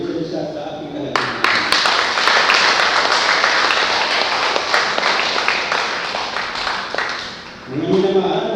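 Congregation at a church worship service breaking into sustained applause, loud and dense, lasting several seconds before tapering off, with a voice and music-like tones faintly underneath at the edges.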